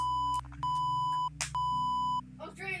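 Morse code beeps in the video game Identity Fraud: clean steady electronic tones in long and short pulses, a long tone, a short one, then two more long ones, with a low hum beneath and a brief voice near the end.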